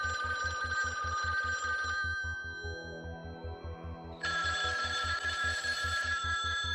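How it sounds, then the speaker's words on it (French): A telephone bell rings steadily in fast repeated trills, loud and close, with a brief shift in tone midway before the ringing resumes. "La sonnerie hurle partout."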